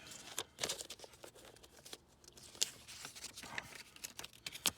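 A Pedal Commander throttle controller package for a 2011 BMW 328i E90 is opened by hand, giving close, irregular crinkling and tearing of packaging with sharp rustles and small taps over about five seconds.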